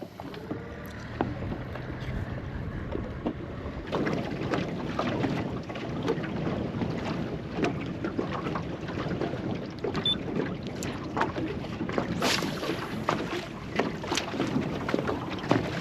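Wind buffets the microphone steadily while a small boat is steered between oyster racks against the tide, with gusty rumble, water slaps and occasional knocks throughout and no talking.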